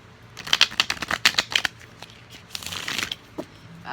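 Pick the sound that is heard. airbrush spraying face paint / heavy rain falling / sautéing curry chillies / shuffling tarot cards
shuffling tarot cards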